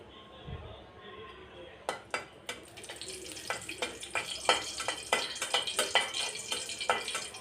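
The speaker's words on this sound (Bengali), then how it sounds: "শুকনো মরিচটা একটু ভেজে নিলাম" Dried red chillies frying in hot oil on a gas stove for a village-style dal and greens dish, popping and crackling in quick, uneven bursts that grow busier over a low sizzle.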